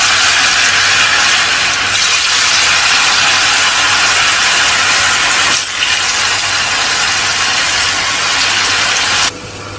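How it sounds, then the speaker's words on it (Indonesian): Diced tofu frying in hot oil in a home kitchen, a loud steady sizzle and hiss that runs unbroken for the whole stretch and eases slightly near the end. "Kalau sudah dipotong-potong semuanya, kita akan goreng terlebih dahulu tahunya"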